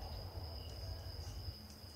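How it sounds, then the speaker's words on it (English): Crickets in the African wild at night near a small tent keep up a faint, continuous high trill over a quiet, low background rumble. "all I can hear are crickets."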